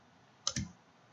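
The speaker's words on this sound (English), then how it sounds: "Then, hit enter po natin sa keyboard." Enter key pressed on a computer keyboard, a single close click with a quick double attack, faint and isolated against quiet room background.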